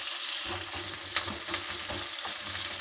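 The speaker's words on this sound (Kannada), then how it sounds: "ಮೊದಲು ಈರುಳ್ಳಿ ಹಾಕ್ತಾ ಇದ್ದೀನಿ. ಈರುಳ್ಳಿ ಸ್ವಲ್ಪ ಫ್ರೈ ಆಗಲಿ." Onions sizzle and fry in a pan at the start of a masala for a layer chicken curry, giving a steady close hiss with light stirring clicks throughout and no voices.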